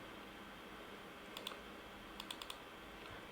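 Computer keyboard typing, a few faint, quick key clicks in two brief clusters over a quiet steady background hum.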